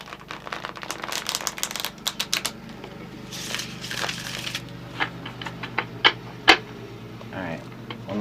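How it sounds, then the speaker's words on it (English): A deck of tarot cards is riffled and shuffled by hand in quick, crisp bursts of flicking and slapping, close and fairly quiet, with a few louder snaps near the end. "Alright, one more shuffle for Aquarius."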